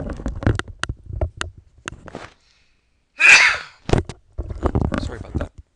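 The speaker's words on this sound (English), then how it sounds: "I'm going to have a sneeze coming up" A single loud, close sneeze bursts out after a moment of silence, with a person talking before and after it.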